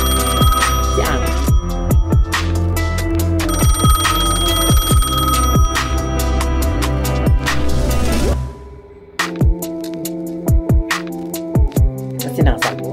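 An outgoing phone call rings through on the line with a steady, repeating ringback tone in regular bursts. It sounds close and fairly loud, with a short gap near the end before the ringing resumes.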